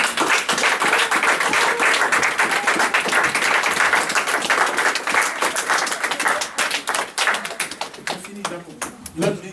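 A church congregation applauding during a worship service, dense sustained clapping from many hands close by for several seconds, thinning toward the end into scattered claps with cheering voices mixed in.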